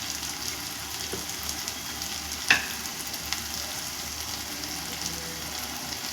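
Marinated chicken with salt, chili powder, turmeric and coriander powder sizzles steadily in a frying pan for a chili chicken curry, with one brief scrape of stirring near the middle; no one speaks.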